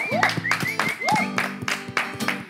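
Audience claps for a performer in rhythmic, evenly spaced bursts, roughly four per second, mixed with sustained sung or played tones rising and falling over the beat.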